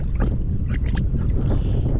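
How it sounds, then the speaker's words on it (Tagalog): Strong wind buffets the microphone at sea during a fishing trip, a steady loud roar with gusts over the water and a boat, continuous throughout with no talk. "Parang mas lalong lumakas ang hangin."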